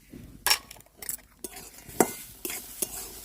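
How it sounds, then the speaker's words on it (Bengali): Chopped cashews and raisins frying in a pan for a raw papaya and milk halwa, with a utensil scraping and clinking against the metal in several sharp, separate strokes over a soft background sizzle. "খুব ভালো করে প্রচুর লাল লাল করে ভেজে নিতে হবে"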